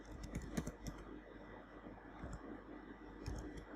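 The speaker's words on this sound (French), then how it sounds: "je viens au niveau de terminal et je tape" Quiet, close typing of a system reset command on a computer keyboard, quick irregular key clicks in a short burst with no talking.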